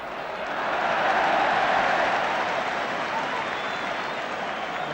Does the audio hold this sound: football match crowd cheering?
yes